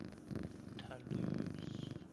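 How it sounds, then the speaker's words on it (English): Toulouse the cat purring close up in a steady, low rumbling rhythm that swells louder midway, with soft voice-like sounds mixed in. "Cat purring."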